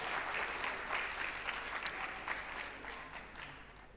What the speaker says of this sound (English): can you clap for them for being late,